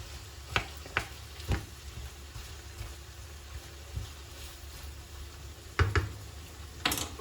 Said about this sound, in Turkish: Ardından soğanlarımızı da ilave ediyorum. Karıştırıyorum.